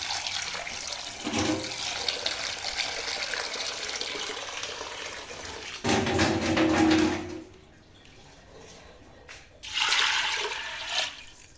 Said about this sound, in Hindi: और इसमें हम काफ़ी सा पानी ऐड कर देंगे।